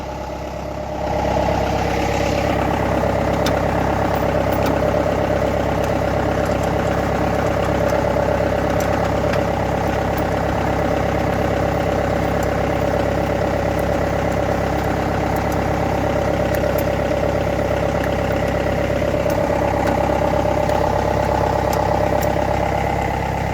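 A John Deere 6230 tractor engine idles steadily at close range, a continuous even drone with a slight knocking texture running unbroken for over twenty seconds with no talk.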